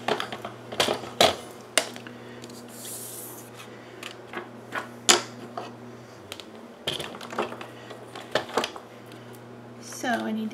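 Paper is trimmed down for a birthday card sentiment strip, with several sharp close clicks and short cutting scrapes over a faint steady hum, scattered and irregular.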